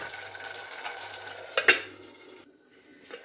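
Over a soft simmer, a pot of cuttlefish stew is stirred, then a metal lid clanks twice sharply onto it, leaving a quieter, muffled bubbling with one final light knock.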